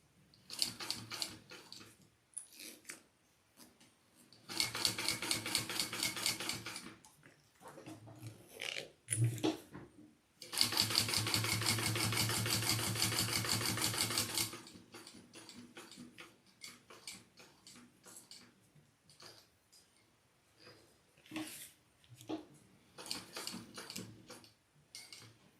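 Domestic sewing machine stitching fabric for a crossbody bag, running in bursts of rapid mechanical clatter separated by pauses and softer ticking of the mechanism, close and fairly loud.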